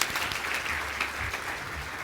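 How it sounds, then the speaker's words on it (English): An audience at a science talk applauds, with a dense, steady patter of many hands clapping throughout, fairly even in loudness. "Applause, much applause."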